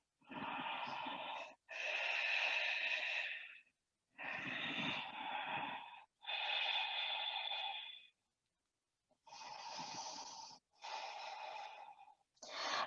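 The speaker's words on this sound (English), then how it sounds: "let's take a couple of Ujjayi breaths here" Slow Ujjayi yoga breathing, held in mountain pose: a series of long, rasping ocean-like breaths close to the mic, each lasting one to two seconds and separated by brief pauses, with no talking.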